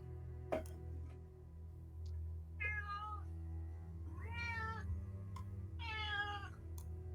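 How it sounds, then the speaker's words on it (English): A cat meows three times in drawn-out, rising calls, each separated by a pause, clear and fairly close over a quiet low hum, with no talk. "Meow indeed."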